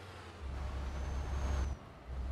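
A MAN TGX truck in Euro Truck Simulator 2 gives a hissing burst of air brakes over a low engine rumble, the sound swelling, cutting off briefly, then resuming, with no speech.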